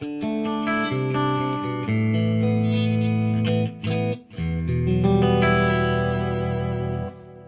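A clean electric guitar with a scooped, crystalline tone plays ringing chords and arpeggios with a bright, hollow-mid sound and shimmering effects, sustained with a short gap midway.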